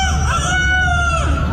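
A person imitates a rooster crowing on a radio morning show, a loud, strained, screamy cock-a-doodle-doo with wavering pitch, held close and alone for about a second and a half.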